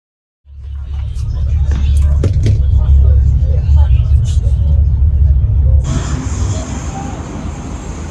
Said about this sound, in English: we are at Macon Interprovincial Bus Station